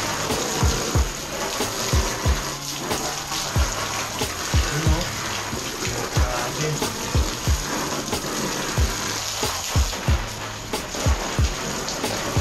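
Water sprayed from a hose onto a muddy camping tent, a steady hissing patter with rhythmic splashy bursts throughout, fairly close.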